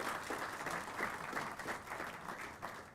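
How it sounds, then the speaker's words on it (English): Audience applause at an international round table business event, a steady wash of clapping from a seated crowd at moderate level, holding evenly for a few seconds with no voices over it. "please give a big round of applause for Sri Swapan Dasgupta."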